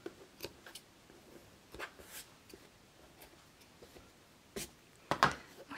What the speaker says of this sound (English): I'm also going to take the time to trim any threads.